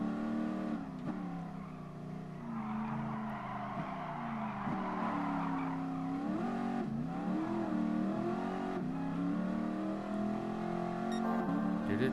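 A Ford GT40 engine in Gran Turismo Sport drones steadily with a harmonic growl, rising and falling through gear changes and revs over a lap, continuous and fairly faint.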